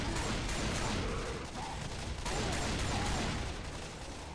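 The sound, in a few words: gunfire from Left 4 Dead 2 video game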